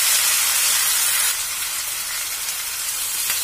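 Tomatoes frying in a pan with garlic for a spicy kara chutney give a loud, continuous close-up sizzle and hiss, easing slightly in intensity partway through.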